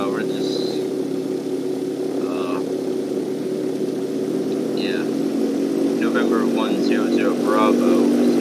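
Propeller aircraft in Flight Simulator X taking off from runway 10 at Greenville Municipal, a steady low engine drone throughout, with brief voice chatter and radio-like tones over it.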